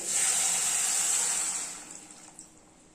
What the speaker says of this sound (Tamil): தண்ணி வந்து ஒரு ரெண்டு டம்ளர் வச்சுக்கலாம்